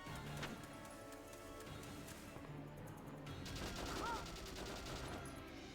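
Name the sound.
gunfire shooting at a tank in video game Valkyria Chronicles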